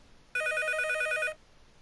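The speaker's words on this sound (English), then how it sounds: "the phone rang." A telephone bell rings once in a single rapid trilling burst lasting about a second, loud and close against a quiet room, then stops abruptly.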